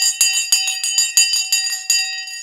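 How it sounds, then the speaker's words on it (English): A bell rings to open a live stock market show, struck loudly in a rapid run of about eight clear metallic strikes, each ringing on briefly before the next, with no voices. "the bell has now gone"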